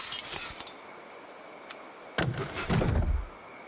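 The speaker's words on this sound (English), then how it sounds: "we have to break the glass or remove the glass." Window glass breaks and shatters in the zombie survival game Project Zomboid, a sharp crash followed by tinkling shards, preceded by brief clinks, close and alone without talk.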